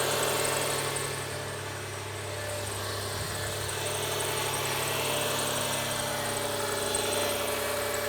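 A Subaru engine idles steadily while running for a transmission fluid check, a constant low mechanical hum and vibration with no revving, close by and alone.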